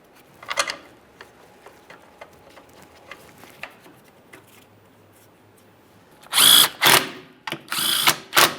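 Power tool snugging up the radiator support mounting bolts on a 2013-2020 Ford Fusion 2.0L, heard as several loud, close bursts near the end after a quieter stretch of faint tool handling.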